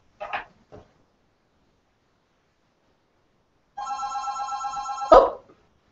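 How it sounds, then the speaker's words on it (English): An office telephone rings with a steady electronic trill lasting over a second, ending in a sharp clunk, after a couple of faint knocks in an otherwise quiet room. "my husband's office phone."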